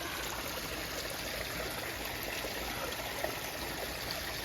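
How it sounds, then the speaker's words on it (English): Steady broadband rush of running water from a koi pond waterfall and filter, continuous and even throughout, no voices. "Waterfall and the filter's still working"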